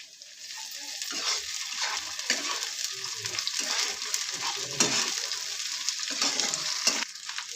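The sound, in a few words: ginger garlic paste added to a frying pan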